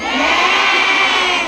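A large crowd of women at a religious gathering shouts together in a loud, sustained bleat imitating a goat, one dense chorus lasting over a second.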